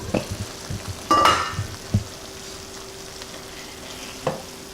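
Beef with spices frying in a pan for wet fry, a close sizzle with sharp scraping stirs and clanks of the spoon against the pan, a loud burst early, then a quieter bubbling with a few more scrapes.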